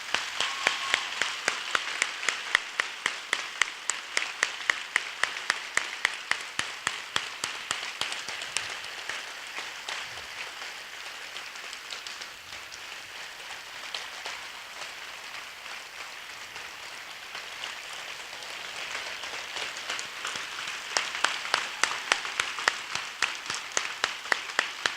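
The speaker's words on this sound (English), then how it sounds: "Please join me in showing your gratitude for our veterans here by giving them a round of applause." A high school gym audience at a Veterans Day assembly applauds the veterans, sustained dense clapping that swells at the start, eases through the middle and rises again near the end, with no talk over it.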